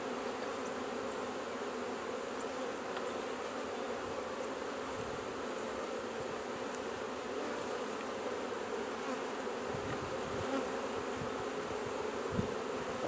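Honeybees in a queenless double-deep hive hum in a dense, steady swarm buzz, close and continuous throughout, with no voices.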